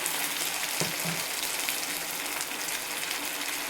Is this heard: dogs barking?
no